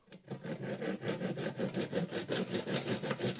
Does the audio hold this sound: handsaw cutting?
yes